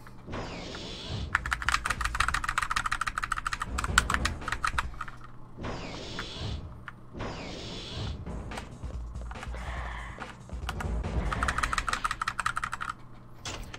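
Computer keyboard keys are pressed rapidly during a Dino Crisis 2 speedrun, clattering in quick bursts of clicks separated by short pauses, close and fairly loud, with no talk.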